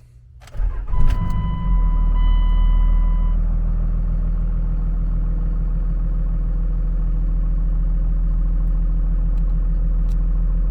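A Dodge truck's 5.9 Cummins diesel cranks briefly, catches and settles into a steady, loud, low idle, heard close with faint chimes early on and no talking.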